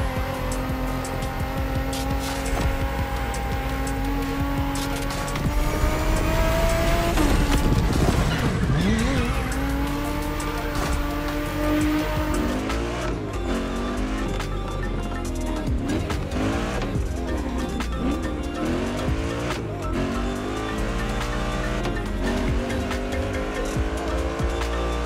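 Souped-up race cars in the video game The Crew Motorfest, with engines revving and roaring through gear changes and tires squealing in long skids, loud and continuous for about 25 seconds.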